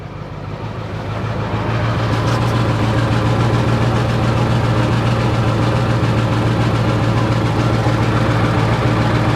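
A crashed Ford 7.3 Powerstroke diesel engine idles: the rumble swells over the first couple of seconds, then settles into a steady, close, even diesel idle with no voices.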